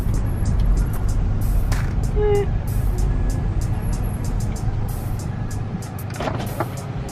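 A car engine rumbles steadily with road noise throughout, heard from inside or close to the vehicle, with a few faint tones and brief voices in the background.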